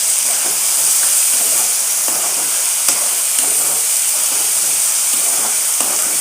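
Tomato pieces hit a hot pan for a drumstick and tomato curry, giving a loud, steady hissing sizzle with occasional faint scrapes and ticks of stirring.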